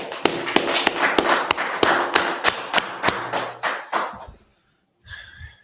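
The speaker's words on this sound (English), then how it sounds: "All right, clap it up." Group of people clapping together in a steady, fairly quick rhythm, crisp and close, a dozen or more beats before stopping, followed by a short burst of voice.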